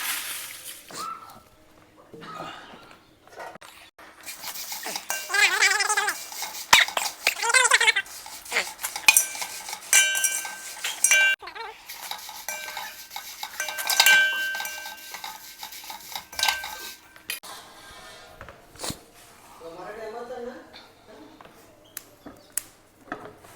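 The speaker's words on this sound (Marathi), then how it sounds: "आता आपण मिरची गरम करायला घेऊया भाजायला घेऊ" Red chillies are dry roasted in a pan, with metal spoon stirring and scraping against the pan, rattling of dry pods and a faint sizzle, mostly alone with occasional clatter.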